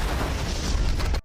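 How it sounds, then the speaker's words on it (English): A bomb planted at the roadside detonates under a convoy of troops, a heavy sustained boom with a rumbling roar that ends abruptly, loud and close, with no speech. "they immediately detonated it"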